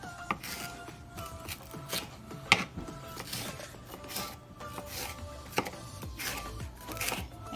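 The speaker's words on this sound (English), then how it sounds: "what I do is just cut it in thin slices" A knife cuts a halved poblano pepper into thin slices on a board, giving quiet, quick, irregular crisp taps and slicing strokes throughout.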